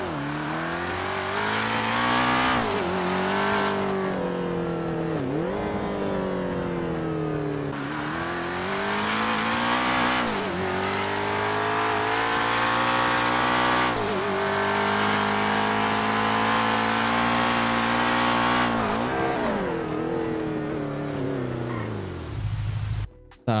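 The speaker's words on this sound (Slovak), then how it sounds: "momentálne sme na letisku Sandy, kde ideme otestovať jeho zrýchlenie z 0 na 100 a jeho obratnosť." A car accelerates hard from a standstill to 100 km/h on an airfield, its loud close engine climbing through several gear changes with brief drops between rising pulls and no talk.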